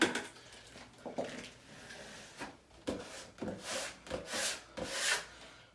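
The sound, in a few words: smoothing down freshly glued wallpaper on a wall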